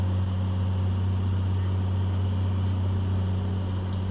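Small airplane engine droning steadily in the cabin during descent on approach to Grand Lake Regional Airport, a loud, continuous low hum that fills the whole stretch with no break.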